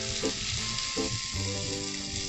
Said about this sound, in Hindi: तो सबसे पहले हम प्याज डालेंगे और इसको थोड़ा सा सॉफ्ट करेंगे